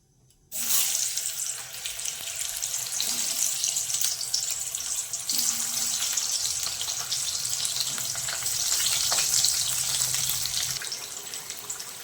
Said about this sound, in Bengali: সেদ্ধ আলুগুলো ভেজে তুলে নেব।